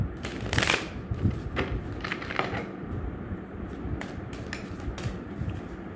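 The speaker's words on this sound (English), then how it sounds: "Last shuffle, and then I will cut and take out the cards." Tarot cards are shuffled close up, with several quick riffling bursts and soft flicks over a faint background murmur.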